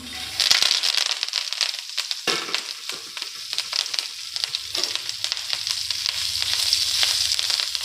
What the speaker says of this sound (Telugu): ఇప్పుడు బాండీలో మనం కరివేపాకు వేసుకొని ఫ్రై చేసుకుందాం.